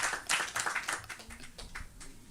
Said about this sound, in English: I'll give her a big round of applause.